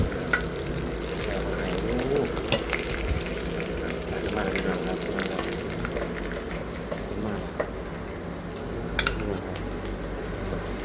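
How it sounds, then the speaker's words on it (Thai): Pork rib cartilage deep-frying in hot oil, a steady loud sizzle throughout with occasional clinks of a utensil against the pan. "ผมก็ทอด ดูหมูหอมๆพี่น้องครับ"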